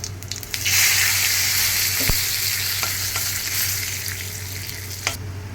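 Whole cumin seeds and bay leaves hit hot oil and start to sizzle loudly and densely. A single knock is heard mid-way, and the frying stops abruptly near the end.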